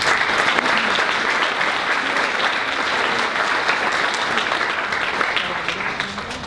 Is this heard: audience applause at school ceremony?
yes